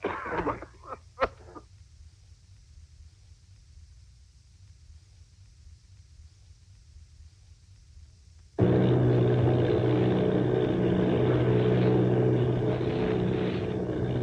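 A bomber's engine in a War of the Worlds radio drama enters abruptly as a loud, steady droning roar after a long near-silent stretch preceded by a few faint clicks, holding strong to the end.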